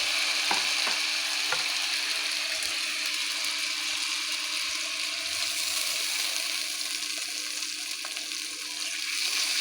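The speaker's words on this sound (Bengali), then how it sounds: "এই আদা আর কাঁচা লঙ্কা বাটা সুন্দর করে ভেজে নেব যাতে কাঁচা গন্ধ চলে যায়।" Ginger and green chili paste fries in hot oil, a steady close broadband sizzle filling the whole stretch, with a few faint clicks of stirring and no talk.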